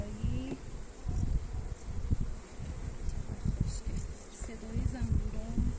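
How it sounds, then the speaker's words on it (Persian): Honeybees at an apiary hive buzz in a steady close drone, with rustling and handling noises and low voices murmuring around them. "صدای زنبورا."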